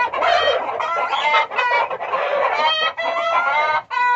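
Chickens and a rooster cluck busily and continuously at close range in a farmyard of GSB-breed fowl, overlapping calls filling the whole stretch with brief dips, no talking.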